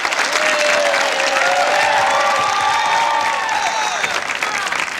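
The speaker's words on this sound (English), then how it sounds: "please stop clapping" Loud, sustained applause from a comedy show audience, dense and continuous throughout with a few voices faintly mixed in.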